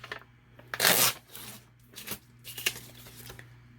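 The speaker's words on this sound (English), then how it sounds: "Would you look at that? Perfectly torn paper every time." A sheet of paper is torn by hand at close range, a loud ripping burst followed by several shorter rustling tears and paper handling over a low background hum.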